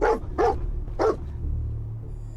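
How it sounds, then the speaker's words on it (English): Three sharp dog barks from a companion dog in the video game Fallout 4, evenly spaced over a low in-game ambient hum, fairly close and loud, then quieter background. "I can hear him barking."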